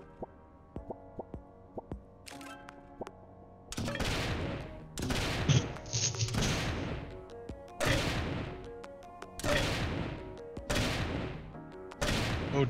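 Corn minigun firing in a video game: repeated bursts of rapid popping shots, several separate volleys after a few lighter clicks at the start, moderately loud with brief pauses between bursts.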